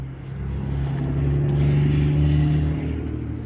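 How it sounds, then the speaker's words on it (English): A heavy vehicle rumbles past with a steady low engine drone that swells and then eases off, loud and continuous throughout. "Loud truck."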